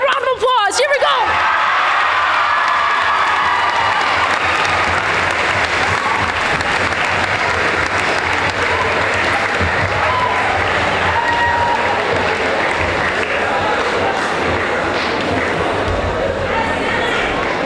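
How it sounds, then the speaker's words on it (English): A school athletic assembly crowd at Stanstead College stands and bursts into loud, sustained applause mixed with cheers and shouts, holding steady for many seconds. "Everyone stand up and give her a round of applause."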